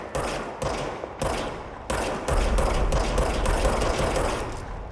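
The service weapon in Control fires repeated loud bursts, each sharp onset followed by ringing decay, then a denser stretch of rapid shots rumbling together near the end.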